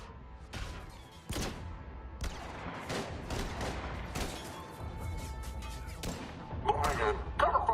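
Mass Effect 3 combat sends bursts of rapid gunfire and heavy impacts in quick succession. The shots sound close and loud and come with crashes and thuds, while shouted voices can be heard faintly in the mix.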